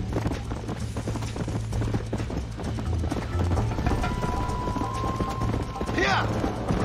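Horse hooves clip-clopping steadily in the Old West game Red Dead Redemption, a continuous trotting rhythm under game music with a brief whinny-like sweep near the end.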